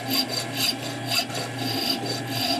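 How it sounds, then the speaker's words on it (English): A vertical lathe machines the top off a threaded adapter held in an auto-centering chuck, making a rhythmic rasping, scraping cut that pulses about twice a second at a steady moderate level. "Then we will machine off the top part of the adapter."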